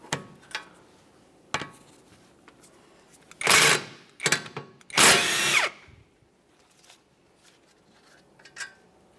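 A power tool drives the lower mounting bolt home while a left CV axle is replaced on a 1994-1997 Honda Accord 2.2L, in short bursts of whirring with two longer, loud runs in the middle and clicks between them.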